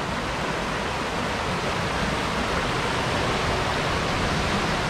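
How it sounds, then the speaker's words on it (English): A small mountain stream rushes steadily downhill, producing a constant, broadband hiss of flowing water that stays even and fairly loud throughout, with no voices. "Another little babbling brook."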